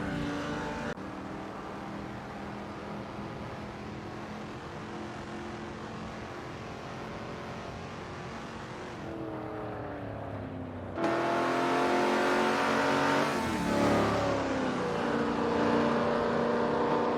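Supercars race around Weatherfield Speedway in a video game, engines droning steadily at mid-distance before a louder, closer roar takes over with rising revs and shifting pitch.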